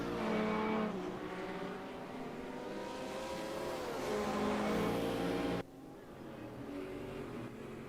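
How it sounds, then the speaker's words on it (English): A racing video game with GTO classic and Group C endurance cars gives a continuous loud engine drone with shifting revs. The level drops abruptly near the end as the game sound is turned down. "Sorry, the race noise."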